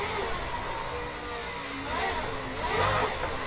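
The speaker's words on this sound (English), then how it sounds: "I feel like it's got like a bit of V8 grunt behind it" A Formula Drift car with V8 power revs and accelerates, a steady mid-range engine drone that swells toward the end, heard from a distance and with no one talking.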